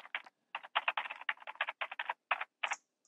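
Rapid, quiet keyboard typing in a PC 911 dispatcher game, a string of soft clacking keystrokes in an uneven rhythm with no voices.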